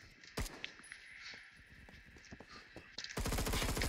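Gunfire in the video game Phantom Forces: bursts of rapid automatic shots with scattered single cracks and footsteps, ending in a loud sustained volley.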